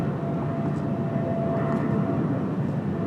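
Boeing 787 Dreamliner airliner departing, a steady moderate jet roar with a faint whine, continuous and fairly distant, no voices.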